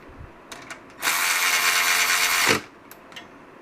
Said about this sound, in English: I'm trying to think of a challenge for the impact driver